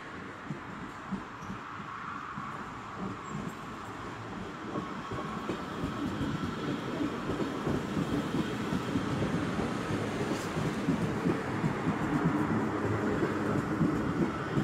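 A broad-gauge train bound for Irun rolls through a station in San Sebastián, Basque Country, its rumble with rhythmic clickety-clack of wheels building steadily louder as it draws nearer.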